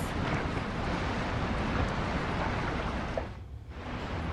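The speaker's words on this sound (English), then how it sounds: "The storm surge tears into the sea floor." Stormy sea surf churns with strong wind in a steady, loud broadband roar, briefly dipping near the end before swelling again.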